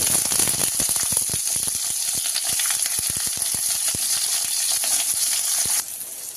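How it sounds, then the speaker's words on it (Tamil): Steady, loud sizzle of brinjal frying in hot oil with scattered crackles and pops, continuing alone until it suddenly drops quieter near the end. "எண்ணெய் வச்சு முதல்ல கத்திரிக்காயை தான் நல்லா வதக்கணும்"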